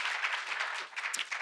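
An audience at a community awards ceremony gives a round of applause, a dense, fairly soft wash of clapping that holds steady throughout, heard from some distance.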